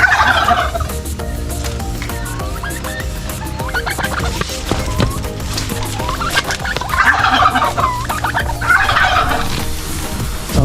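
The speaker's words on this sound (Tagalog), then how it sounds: "Ang gugulo po nitong mga pabo." Turkeys gobble repeatedly in loud, overlapping bursts, with stretches of clucking and shuffling fowl noise between calls at a pond-side poultry area.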